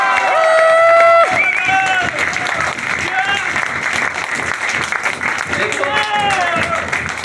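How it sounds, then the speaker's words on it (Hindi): Loud audience clapping at a Proveda India company event, sustained dense applause with cheering voices mixed in and a few whistle-like tones, crowd noise throughout. "फिर थोड़ा जोरदार ताली बजाओ।"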